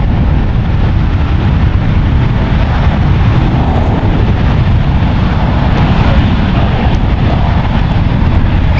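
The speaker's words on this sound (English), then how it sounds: "Looks like this A319 is going to be departing." United Airlines Airbus A319, a 19-year-old jet departing San Francisco International for Mexico City, gives a loud, steady low engine roar that holds throughout with no talk.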